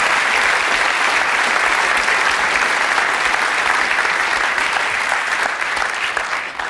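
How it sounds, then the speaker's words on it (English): A comedy show audience applauds warmly for a guest, a steady, dense wash of clapping from the whole room, sustained and even throughout with no voices over it. "Give her a big round of applause."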